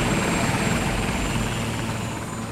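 A rescue helicopter drones steadily nearby, landing on a New Orleans hospital roof after Hurricane Katrina, its rotor chop and engine whine forming a loud, continuous roar with no speech.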